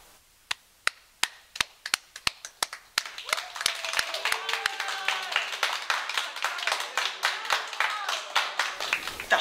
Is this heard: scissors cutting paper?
no